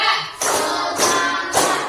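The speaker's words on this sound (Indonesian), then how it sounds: "Tepuk 1, tepuk 2, tepuk 3" A group of people in a classroom claps in unison three times, each burst of clapping evenly spaced and fairly loud with no talk over it.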